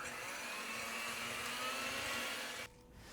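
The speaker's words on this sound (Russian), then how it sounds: "К белкам добавляем 2 грамма соли и начинаем взбивать до нежной пены" Egg whites whipped with a pinch of salt into a soft foam, a steady loud electric mixer whir that runs evenly and then drops off abruptly near the end.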